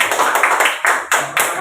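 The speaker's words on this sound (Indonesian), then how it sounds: "kasih semangat dulu tepuk tangannya" Clapping from a classroom community group, a few bursts of hands tapping together in short rhythmic clusters, fairly close and loud, with no one talking over it.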